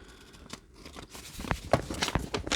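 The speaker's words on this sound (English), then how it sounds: "these are my precision scissors that I got on Amazon" A few sharp snips from small precision scissors with light rustling between them, close and fairly quiet, with no one talking.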